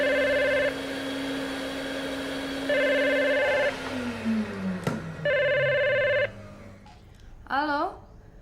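A telephone bell rings in repeated bursts, loud and close, with pauses between rings, followed by a person speaking briefly at the end.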